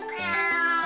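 Cartoon cat gives one drawn-out, clear, close meow lasting under a second, rising and wavering in pitch.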